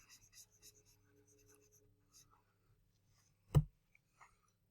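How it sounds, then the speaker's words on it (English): Handwriting with a pen on paper while working a geometry problem, a few soft scratchy strokes followed by one sharp tap, quiet and close with no talk. "I can write down this as"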